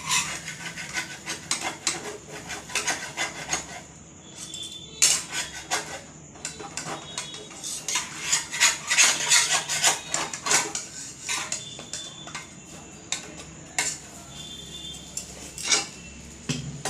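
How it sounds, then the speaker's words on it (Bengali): Butter being spread around a kulcha (potato-stuffed paratha) in a hot pan, a continuous scraping and rubbing of a utensil on the pan surface, with light clinks and irregular strokes, no talk. "বাটারটা দিয়ে দিলাম চারিদিকে লাগিয়ে।"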